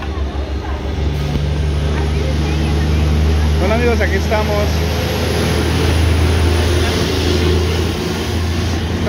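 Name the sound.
cars and trucks passing over a bridge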